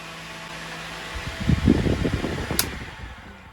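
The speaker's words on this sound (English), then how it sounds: "this one is already plugged in for the little oscillating fan" A small USB oscillating fan hums steadily and faintly in a tiny off-grid cabin, with some handling and rustling noises partway through.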